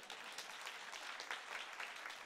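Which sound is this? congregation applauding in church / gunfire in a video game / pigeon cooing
congregation applauding in church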